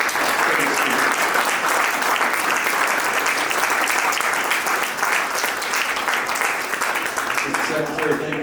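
An audience at a luncheon claps in a dense, sustained round that holds loud and steady throughout, with a voice surfacing near the end.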